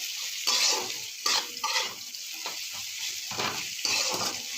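Onions fry in a pan with salt, a soft sizzle broken by repeated scraping stirs at an uneven rhythm, close and moderately quiet with no talk.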